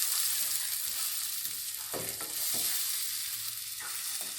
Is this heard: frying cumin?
yes